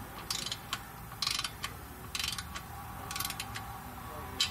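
A ratchet wrench working on clutch pressure plate bolts during a Valair dual disc clutch install on a G56 Dodge transmission, giving short bursts of quiet clicking strokes at a steady rhythm against a low background.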